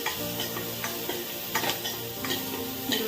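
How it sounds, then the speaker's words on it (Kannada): Onions frying in a stone pot for a dhaba-style palak gravy, a steady soft sizzle with intermittent scraping stirs of a spoon against the pot. "ಈರುಳ್ಳಿ ಒಂಚೂರು ಫ್ರೈ ಆಗಲಿ"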